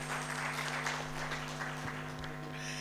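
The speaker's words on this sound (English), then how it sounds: "Another round of applause" An audience claps steadily in a continuous wash of applause, with a low electrical hum running underneath.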